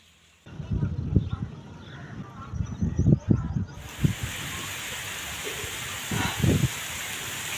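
Heavy rain falls in a village as a steady, moderately loud hiss, with rustling and intermittent voices talking over it nearby.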